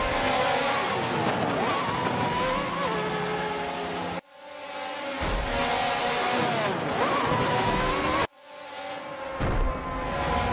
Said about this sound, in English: Fernando Alonso made contact on Sebastian Vettel's car, forcing him to spin out of control